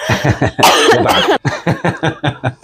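A person coughs hard in a fit of several harsh coughs, loud and close, then a few shorter throat-clearing coughs in quick succession.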